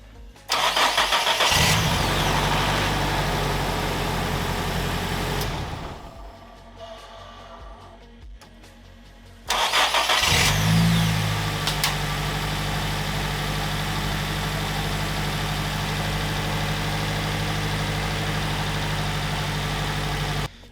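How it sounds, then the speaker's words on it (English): A Nissan 180SX with an SR20DET engine and a new lightweight battery cranks and catches, runs loudly, cuts off, then starts again and settles into a steady, close idle. "To me that looked like it started the car pretty easily."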